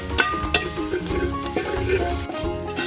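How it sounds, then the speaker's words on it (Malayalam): Chili powder and turmeric being stirred into frying masala in a pan, a close sizzle broken by repeated scraping clicks of the spoon, ending abruptly. "എല്ലാം കൂടി നൈസായിട്ട് ഇളക്കി കൊടുക്കുക"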